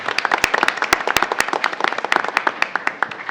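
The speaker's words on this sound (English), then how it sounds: "I want to give her a round of applause." Applause at a school board meeting welcoming a newly appointed board member: many hands clapping densely and unevenly, lively and fairly close, with no talk over it.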